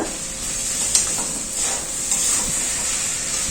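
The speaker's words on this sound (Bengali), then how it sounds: "মশলার সাথে গোবিন্দভোগ চাল খুব ভালো করে কষানো হয়ে গেল" Gobindobhog rice sautés with spices in a pan for paneer khichdi, a steady, fairly loud sizzle and hiss with a few soft stirring scrapes and one small knock, heard alone.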